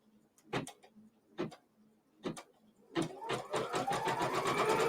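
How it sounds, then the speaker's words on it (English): Sewing machine stitching the square border of a quilt: a few isolated mechanical clunks, then a fast steady run of rhythmic needle strokes with rising motor whine, close and clear. "So it is just stitching out my main border."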